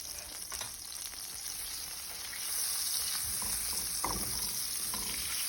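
Butter melts and sizzles in a pan, making a steady, soft frying hiss that swells slightly partway through, with no talk.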